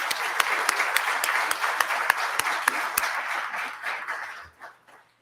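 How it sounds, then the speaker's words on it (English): A room full of people at a school district Red Ribbon Breakfast claps for guest speaker Harrison, steady crowd applause with a few crisp close claps on top, thinning and fading out over the last second. "One more big round of applause for Harrison."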